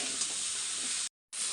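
Vegetables with thinly sliced tomato frying in a pan, for a cauliflower stalk dish, give a steady, close, loud sizzle that cuts out briefly and then resumes.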